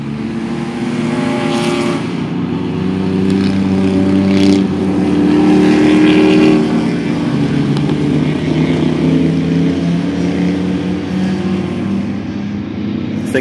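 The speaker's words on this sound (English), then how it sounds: "I think that Miata has a turbocharger on it." A turbocharged Mazda Miata race car at a track turn during a Lemons endurance race, its engine droning loudly and steadily with rising and falling revs, other car noise blending in, with no voices.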